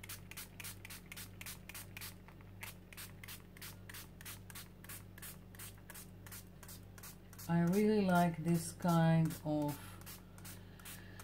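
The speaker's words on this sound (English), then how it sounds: "I'm going to spray it with this kind of turquoise." Short, regular hisses from a turquoise spray paint can onto paper repeat in a steady rhythm up close, with someone briefly talking over them toward the end.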